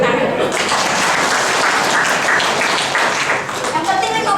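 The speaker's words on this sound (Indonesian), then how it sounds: "Tepuk tangan." A crowd claps and cheers together in sustained applause, loud and close, with voices mixed into the noise.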